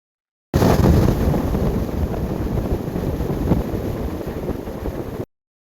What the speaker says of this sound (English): You ever wonder what it's like fishing on a windy day?